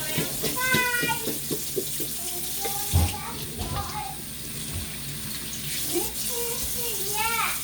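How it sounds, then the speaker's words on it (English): Kitten feeding bottles are rinsed under a running tap, a steady splash of water with intermittent clinks and sloshing, while a voice and faint high cries sound in the background. "all my bottles scrubbed out, now I rinse them all"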